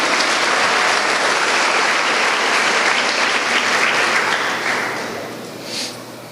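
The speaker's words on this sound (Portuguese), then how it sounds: "Quem quer, dê um aplauso a Ele" A church congregation claps loudly together, a dense burst of applause that holds steady and then tapers off toward the end.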